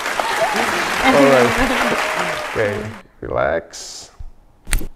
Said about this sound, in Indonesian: Wih, tepuk tangan.